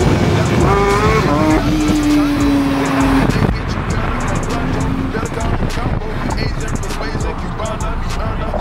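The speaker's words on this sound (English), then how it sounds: "My brother Zayn is reversing currently in the Ferrari." A Ferrari engine hums and revs while the car reverses, with a rising tonal whine early on, under steady road and background noise and a voice talking over it.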